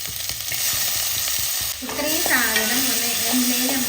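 Cashews and tomato fry in oil in a pan, a steady sizzle that starts soft and grows louder as the tomato goes in, with stirring scrapes and a faint voice partway through.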